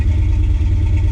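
A 1968 Chevy C20 big block V8 idles rich with a deep, steady rumble and low pulsing throb, loud and close with no voices.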